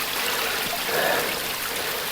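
Water flows steadily into a newly relined garden pond, a continuous close trickle and splash from a pipe with an air stone nearby, gentle and unbroken throughout.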